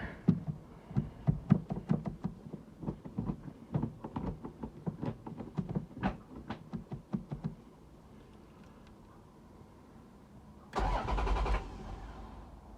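Toyota Celica GT-Six with a boosted engine and fuel mod, heard in a run of rapid knocking cranking clatter, then a lull of quiet idle-like hum, and finally a loud close burst as the engine catches and roars.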